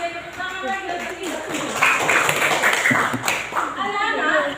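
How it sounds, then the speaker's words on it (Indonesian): A class of schoolchildren clapping their hands together in a classroom, a dense mid-level patter of claps mixed with voices talking and chanting over it. "Oke, tepuk tangan lagi."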